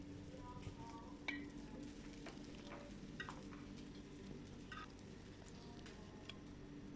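Fish frying in hot oil in a pan on a home stove, giving a steady crackling sizzle with occasional sharper pops and spatters throughout, close and moderately loud with no talking.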